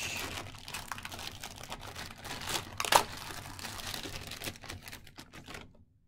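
A plastic bag holding a Happy Meal toy crinkles and crackles close up for several seconds, with one sharper rustle midway, before it falls silent.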